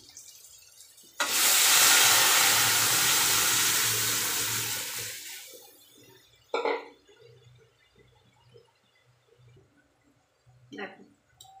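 Dal is poured into a pan of lightly fried bitter gourd and ginger, giving a loud rushing splash for several seconds that fades, followed by a few scattered clinks and quiet kitchen sounds.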